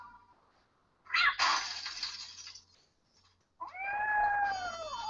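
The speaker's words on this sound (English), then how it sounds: "That's the cat Molly wants me to catch" Cat in a Nancy Drew video game, giving a harsh yowling cry followed by a long, clear falling meow, both close and loud against a quiet game background.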